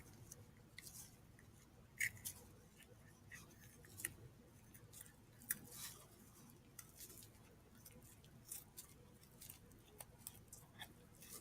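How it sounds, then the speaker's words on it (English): Scissors snipping through a cow eyeball during a dissection, quiet close crunchy cuts in an irregular series of short sharp clicks over a low background hum. "After you do that, you're going to cut your eyeball directly in half"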